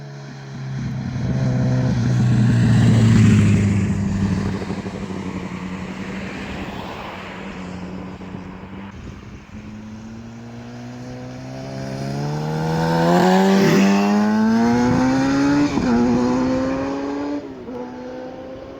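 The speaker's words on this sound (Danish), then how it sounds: "Vi synes, vi har fundet de perfekte forhold for noget drive-by. Starter vi lige med noget acceleration, hvor jeg kan væk." A 2014 Kawasaki Ninja ZX10R sports motorcycle revs and accelerates hard past in a drive-by, its engine note climbing through several gear changes, swelling loud near the middle and fading, then building again in a second strong pull.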